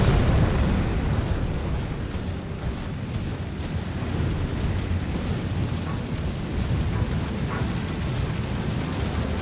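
A boss in Elden Ring: Shadow of the Erdtree unleashes shockwave fireball explosions, a dense, continuous roar of blasts and rumbling booms that stays loud throughout.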